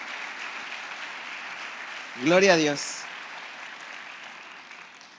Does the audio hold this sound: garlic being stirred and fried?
no